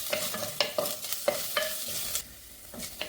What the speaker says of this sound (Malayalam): ഇനി നല്ലവണ്ണം വഴറ്റെടുക്കുക.